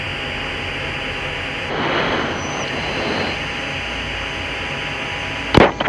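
The F-16's jet engine roars as a steady, dense, broadband drone during the climb, swelling briefly in the middle and ending with a sharp click or crackle, with no voices over it.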